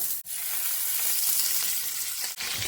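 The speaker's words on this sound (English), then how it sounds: "Then in the same pot, we're going to add in some butter" Butter sizzles in a hot pot, a steady, close, bright hiss with a couple of brief stirring scrapes.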